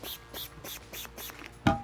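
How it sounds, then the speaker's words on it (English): Five quick bursts of water and sand repellent sprayed onto suede Timberland boots, close and rhythmic, each hiss roughly a quarter second long, followed by a short knock at the end. "You're gonna spray it down."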